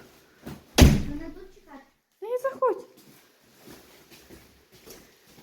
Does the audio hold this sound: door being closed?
yes